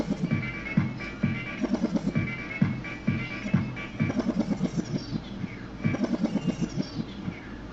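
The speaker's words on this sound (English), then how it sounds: "If you are looping, you can't just backspin with the loop going" A DJ backspin in Virtual DJ performed while a loop keeps playing, giving a stuttering run of short repeated beat fragments with pitch sweeps sliding through them, loud and up close with no talking.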